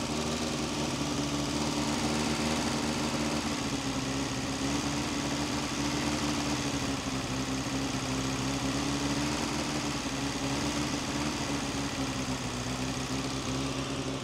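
A Suzuki Samurai engine idles steadily after repair, a continuous buzzing, vibrating drone heard close up at constant level without talk.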